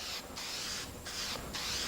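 A paint spray gun hisses in three short, even passes with brief gaps between them, a steady close airy spray laying down light coats.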